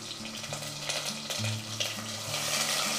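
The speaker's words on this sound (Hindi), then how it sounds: "अब इसमें ऑनियन डाल देंगे," Onion paste sizzles and crackles steadily in a hot pan for palak paneer, with a spoon scraping and stirring through it in repeated strokes close up.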